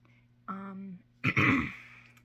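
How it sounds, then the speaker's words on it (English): A short voiced throat sound is followed by a harsh, raspy cough, close and fairly quiet, with no speech. "Sorry, I'm getting over a cough."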